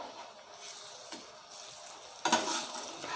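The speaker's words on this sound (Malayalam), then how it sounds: "നമുക്കിതൊന്ന് നന്നായിട്ടൊന്ന് ഫ്രൈ ആവണ വരെ വെയിറ്റ് ചെയ്യാം" Banana fritters (pazham pori) frying in hot oil, a soft continuous sizzle with a few sharper crackles and a light clink of a utensil partway through.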